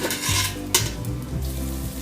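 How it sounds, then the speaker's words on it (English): Stuffed bitter gourd, or karela, frying in a pan, making a close, loud sizzle with a couple of quick utensil scrapes and one sharp knock partway through. "I'll fry it from all the sides and then again I'll cover it and I'll cook it so that it becomes tender."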